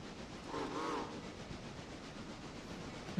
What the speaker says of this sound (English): let's get this train rolling here.